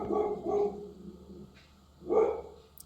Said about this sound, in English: Dogs must be seeing the cat, neighbor's cat, they go crazy.